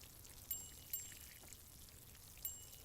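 Watering plants in the video game Plant Nursery Simulator: a soft, faint pouring trickle with a few sharp tick-like clicks at intervals.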